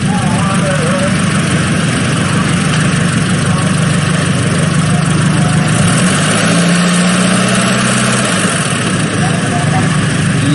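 Citroen car engine running steadily and loud at close range, a constant low rumble with a slight rise in pitch midway as it is given gas to raise the hydropneumatic suspension.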